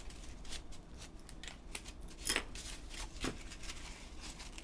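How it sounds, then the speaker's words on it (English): Small scissors snip quietly through thin crepe paper in a quick series of crisp cuts, close up, with light rustling between cuts and no talking. "use the small scissors to give it some detail"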